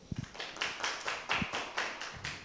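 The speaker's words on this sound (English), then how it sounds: "can our class give an applause to our presenter today" A small class claps for a presenter in a classroom or meeting room, a few people producing soft, uneven rounds of claps at close range, with no talk.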